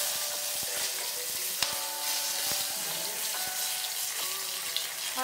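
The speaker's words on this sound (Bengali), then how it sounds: "এখন আমি শুকনো লঙ্কা দিয়ে দিচ্ছি, এলাচ, লবঙ্গ, দারচিনি এগুলো দিয়ে দিচ্ছি," Dry chilli, cardamom, clove, cinnamon and bay leaf fry in hot oil with a continuous bright crackling sizzle, close by, punctuated by a few faint clicks and taps.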